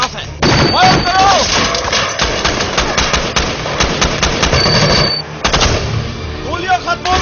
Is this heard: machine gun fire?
yes